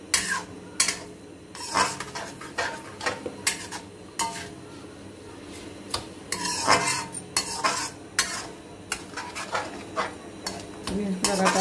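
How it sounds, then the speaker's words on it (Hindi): A spoon stirs raw mango chutney in a pot as the sugar melts into a syrupy liquid, with repeated scraping knocks against the metal in an irregular rhythm, close and fairly loud. "लगातार हम चला रहे हैं, बिल्कुल हटे नहीं इसके पास से"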